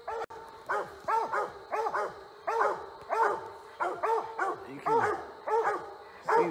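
Coon hounds barking and bawling at a treed raccoon during a night hunt in Maryland, a steady run of loud, close, repeated barks from more than one dog, with brief gaps between bursts.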